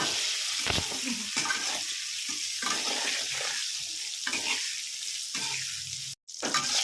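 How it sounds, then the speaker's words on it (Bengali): Eggplant slices, seasoned with salt and turmeric, fry in oil in a pan with a steady, loud sizzle and crackle, broken by brief scrapes and stirring as the pieces are turned. "একটু উল্টে পাল্টে ভালো করে ভেজে নিতে হবে বেগুনগুলো"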